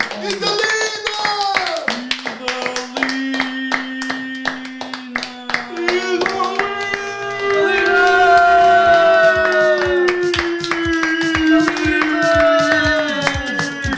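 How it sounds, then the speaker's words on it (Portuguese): Applause during a Portuguese-language comedy episode: a steady patter of many hands clapping throughout, mixed under a loud melodic jingle that swells after the midpoint. "Salva de palmas para a gente."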